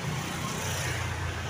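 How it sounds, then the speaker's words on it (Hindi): Cars in street traffic in West Bengal, a continuous dense roadway rumble of passing engines and tyres, steady and moderately loud with no distinct horns or voices. "ये सब कारें हैं।"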